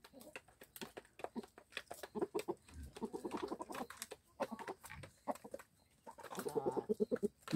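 Free-range hens cluck in bursts at close range, with a rooster's calls among them, busy and irregular over a quiet farmyard background.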